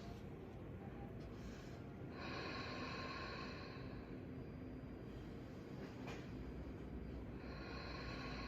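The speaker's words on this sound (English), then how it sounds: "My breath is quite loud. It's a bit of an ujjayi breath." Loud ujjayi yoga breathing, slow drawn-out airy inhales and exhales with a steady rushing hiss, close and continuous with no talking.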